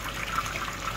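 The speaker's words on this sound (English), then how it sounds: "The pump is now on" A small air source heat pump heating a pool runs with water flowing through it, giving a steady, close watery rush and gush with no talking.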